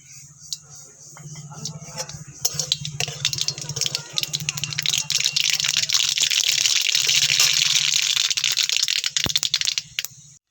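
Bay leaf, a whole dried chili and mustard seeds crackling and sizzling in hot oil for tempering, a steady close hiss that builds louder after a couple of seconds, with scattered pops throughout and no talking.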